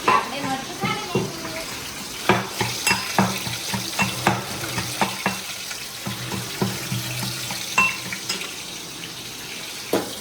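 Green chillies frying in hot oil in a home kitchen while cooking a ripe cucumber curry, a steady crackling sizzle broken by repeated sharp clatters of stirring and utensil knocks.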